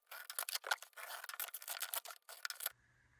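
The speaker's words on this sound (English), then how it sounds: "Use your knife to cut off all the tabs on the box." A knife cuts tabs off a cardboard box, giving close, rapid scratchy slicing strokes in uneven bursts for several seconds before stopping, with a faint hum left behind.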